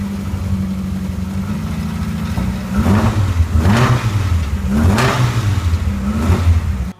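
A car engine runs steadily in a mechanics workshop, a constant low hum that swells with a few revs partway through, loud and close with no talking.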